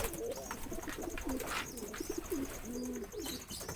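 Pigeons cooing in courtship display, soft repeated throaty coos in a steady rhythm with faint chirps and background noise, close by and without speech.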